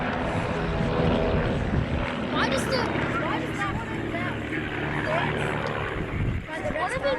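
A formation of six RV-8 propeller aircraft flies by at the Southport air show, giving a loud, steady engine drone with a slowly shifting pitch while an announcer talks over it throughout.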